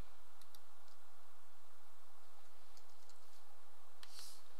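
A few light, sparse key clicks from a computer keyboard, quiet and close, with long gaps of faint room hiss between them.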